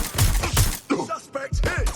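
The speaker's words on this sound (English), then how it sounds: "But gunfire!" Rapid bursts of gunfire in the video game Watch Dogs: Legion, sharp repeated shots in two clusters with a short pause between, loud and close, shouted game voices in the gap.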